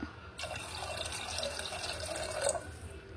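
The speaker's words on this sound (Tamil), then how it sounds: "இது கூடயே இன்னும் 1 கப் அளவுக்கு தண்ணி விட்டுக்கலாங்க." Water streams into a pressure cooker holding foxtail millet for kheer, a soft continuous pour that starts suddenly and runs for a few seconds, faint and close.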